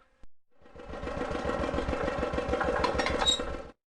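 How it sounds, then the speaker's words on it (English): A tractor engine in a children's educational video game starts up and settles into a steady, loud rumbling idle, heard alone for a few seconds before cutting off. "Take 5 horses on a ride on a tractor."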